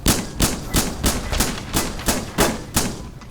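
Rapid blasts from an AA-12 automatic shotgun in a Roblox game, about eight loud, evenly spaced booming shots in quick succession with no talking.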